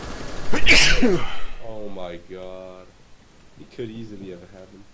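A single loud, sharp sneeze from a person is followed by calm talking voices.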